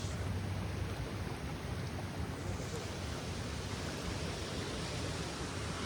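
Cool river water in Konkan rushes in a steady, dense broadband wash, loud and continuous throughout, with no speech over it.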